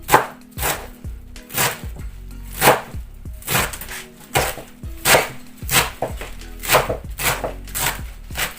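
Vegetables for macaroni soup being chopped into small pieces with a knife on a board, a series of sharp close knocks in an uneven rhythm, roughly one or two per second, with no talk.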